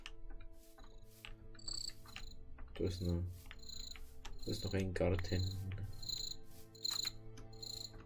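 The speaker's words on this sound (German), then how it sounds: "Nee, scheiß Grillen da." Crickets chirp in a garden area of the video game Minecraft: repeated high, bright chirps recur steadily through the scene over a low drone, while someone talks in German.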